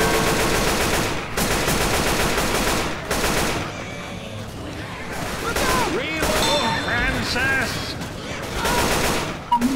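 Dense, rapid gunfire in the zombie shooter Left 4 Dead 2, with overlapping bursts and volleys that run almost without a break while voices can be heard in the mix.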